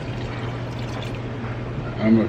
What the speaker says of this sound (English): I'm gonna go ahead and pour this in.